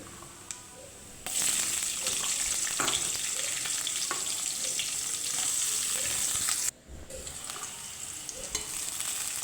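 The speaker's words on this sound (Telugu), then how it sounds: "కొద్దిగా జీలకర్ర, సన్నగా తరిగి పెట్టుకున్న ఆనియన్స్ని కూడా యాడ్ చేసుకుందాం" Cumin seeds and finely chopped onions hit hot oil for a tempering, giving a bright continuous sizzle with spoon scrapes and stirring, briefly cut off then resuming.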